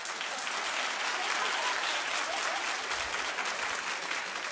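A studio audience at a television talk show claps loudly and continuously, a thick, even wash of applause with no pauses from start to finish.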